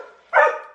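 A pet dog named Camper gives a single sharp bark at home, loud and close, ringing out briefly after a moment of quiet.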